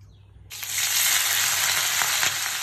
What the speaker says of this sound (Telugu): దీనిలో బాగా వేయించాలి ఇవన్నీ. ధనియాలు, జీలకర్ర కూడా వేయాలి